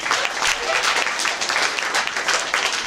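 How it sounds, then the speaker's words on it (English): Audience applause at a sorority chapter event, a steady wash of clapping hands from a crowd throughout, fairly close and even in loudness. "Give them all a big round of applause."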